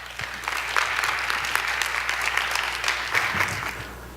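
Steady, fairly loud applause from a conference audience greeting a speaker, dense overlapping claps that hold evenly from start to finish without talk.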